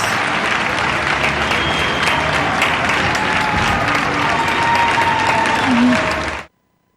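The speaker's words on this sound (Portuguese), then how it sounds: "Aplausaço aqui agora no Centro para os Médicos" Applause for doctors rises from people at windows across a downtown area, a continuous distant clapping wash with faint whistles and calls, cutting off abruptly at the end.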